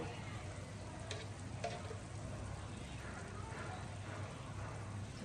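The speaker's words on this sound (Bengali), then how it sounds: "টেবিল চামচ ঘি দিয়ে একটু নেড়ে দিয়ে মিক্স করে" Ghee being stirred into a pot of roasted khichuri gives a quiet, steady sizzle with soft scraping stir sounds and a few light clicks, low in level throughout.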